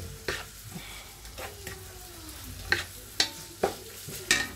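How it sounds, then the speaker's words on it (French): Bolognese sauce ingredients sizzle in a pan while a utensil stirs them, with soft scraping and clinks against a steady frying hiss, heard up close. "on mélange les ingrédients"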